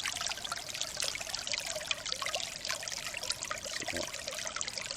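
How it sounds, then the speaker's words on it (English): Spring water runs steadily over the gravel bed of a shallow spring run, a continuous close trickling and babbling wash that holds an even level throughout with no voices. "the spring has a pretty nice flow"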